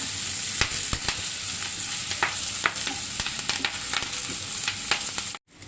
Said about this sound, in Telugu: ఎక్కువ ఏమి ఆగవలేదు, ఒక 2 నిమిషాలు వేగిపోతుంది.